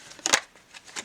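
A combined deck of playing cards of slightly mismatched sizes is shuffled nearby, giving a couple of quick papery riffle bursts followed by softer flutters, fairly quiet with no talk.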